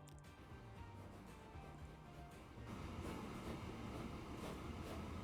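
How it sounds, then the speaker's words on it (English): Train carrying a heavy load of tar sands pulling into a station in the video game Transport Fever 2, set in 1850, a continuous rumbling rail roar with rhythmic clacking that grows louder midway, with no voices. "tar sands train here get into the station and see how much it makes us"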